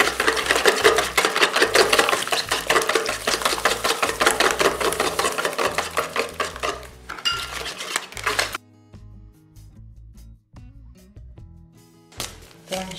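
Five eggs beaten with sugar for a syrup-soaked coconut cake, a steady, dense whirring drone with a fast rhythmic churn that runs for about eight seconds, then drops away to a much quieter, sparser background.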